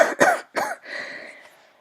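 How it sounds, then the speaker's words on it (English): A woman lying in bed lets out a soft, tired cough in two quick bursts, followed by a faint, whispery breathy moan trailing off, close and quiet. "softly she let out a cough followed by a very whispery,"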